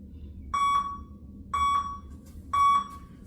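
A workout interval timer sounds three evenly spaced electronic beeps about a second apart, each a clear, bright tone, over a low background hum during an at-home abs routine.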